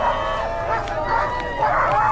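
Sled dogs bark and yip excitedly in a loud chorus at the start of the Kuskokwim sled dog race in Bethel, a kennel team of 20 dogs, with crowd noise and voices mixed underneath.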